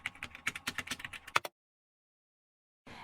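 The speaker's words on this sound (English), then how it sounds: "So we can start by typing weight loss here in the search." Rapid clicking keystrokes on a computer keyboard rattle out close and clear for about a second and a half, then stop before a brief bit of noise resumes.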